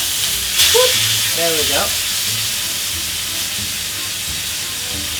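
Salmon fillet sizzling in a hot pan during pan-roasting, a steady broadband frying hiss with a brief louder burst as the fish is flipped, heard close under a short spoken remark.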